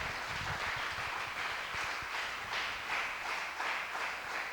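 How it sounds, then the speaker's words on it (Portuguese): A church congregation applauds during a worship service, a steady wash of clapping heard from across the room without a break. "Aplauda Ele mais uma vez."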